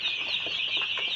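Kadaknath chickens, including a big rooster, clucking and calling at a farm in Bangladesh; a steady mix of close clucks and bird noise runs throughout, with no talk.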